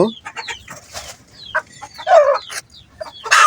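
Hens clucking in short bursts, with a couple of louder squawks near the end; several birds close by, no talking.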